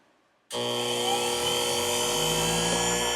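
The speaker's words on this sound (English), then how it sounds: "I use my machine to even the edges and apply wax after the Tokonol." A leather edge burnishing machine starts up with an abrupt click and then runs in a steady, close, high-pitched motor whine with a slightly rising drone, loud and unbroken to the end.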